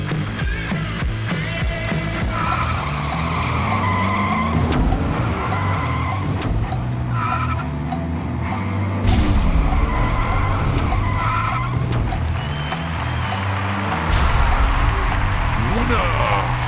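Diecast Hot Wheels toy cars, one a BMW M4, race down a track in a tournament heat, their small wheels giving a steady rolling rattle with bursts of whirring and clatter, under continuous talk from a commentator.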